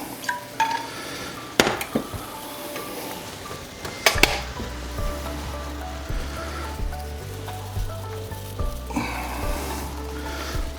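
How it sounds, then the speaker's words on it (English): Soft sizzling of food frying in a cast iron pan, punctuated by metallic clanks and scrapes of utensils against cookware, with a low hum underneath. "Got a nice little sizzle going."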